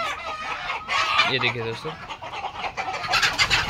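Sonali desi chickens on a poultry farm cluck steadily, close and fairly loud, with a brief rising cackle in the middle, while someone talks over the flock.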